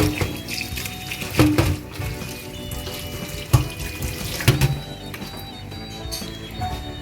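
Tap water runs steadily into a sink as somen noodles are rinsed, close by, with a few louder knocks and splashes from handling, and no talk.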